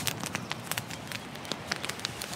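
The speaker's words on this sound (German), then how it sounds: "Ein richtig schönes Feuer hier." A campfire beside Lake Chiemsee burns with a steady scatter of small, sharp crackles and pops over a soft, rushing bed of noise.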